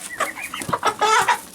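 Turkeys call inside a barn, a close burst of clucking, gobbling fowl sounds that overlap loudly with no talking.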